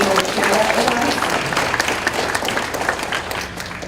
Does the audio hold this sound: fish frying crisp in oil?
no